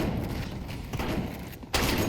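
Dense gunfire crackles through a Counter-Strike match, a steady, busy volley of shots with a sharper, louder burst near the end, no voices.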